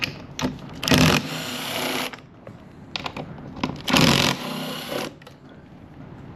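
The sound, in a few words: removing T40 screws from motorcycle top box bracket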